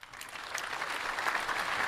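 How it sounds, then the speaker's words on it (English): An audience breaks into an appreciative round of applause, the clapping building quickly from a quiet start into a steady, fairly distant patter that carries on without any talk. "I want to thank you, ladies and gentlemen, for that appreciative round of applause."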